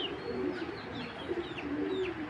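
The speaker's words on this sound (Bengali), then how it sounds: "দর্শক এখন দেখতে পাচ্ছেন একটা ওপাল রেসার নর" A male opal racer pigeon with stone-red eyes coos repeatedly, soft rolling calls in a steady rhythm close by, with faint higher chirps from other birds in the loft.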